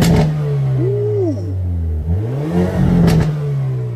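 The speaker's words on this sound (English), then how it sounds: "the exhaust sounds pretty good for a four cylinder" A 2024 Hyundai Elantra N four-cylinder exhaust revs loudly nearby, two rising and falling throttle blips over a steady idle drone, with a brief exclamation from a voice.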